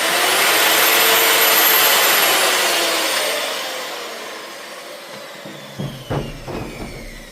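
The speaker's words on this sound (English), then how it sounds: "I'm using the Super Stripper 6000" A Super Stripper 6000 six-speed paint stripping tool runs loudly against the body of a 1983 AMC Concord, a high whining grind that slowly winds down and gives way to a few light knocks and clatters.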